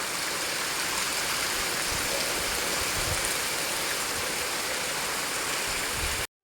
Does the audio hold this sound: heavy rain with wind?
yes